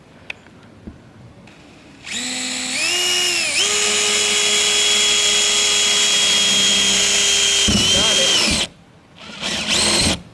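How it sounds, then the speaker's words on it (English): A power drill whirs up drilling a hole through a van roof, its pitch stepping higher, then runs at a steady high whine for several seconds, stops, and briefly spins again; loud and close. "where we're gonna drill the hole in the roof to send the power down"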